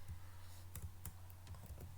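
Keys tapped on a computer keyboard in short irregular clicks, a few sharp strokes over about two seconds, faint and close against a low steady hum.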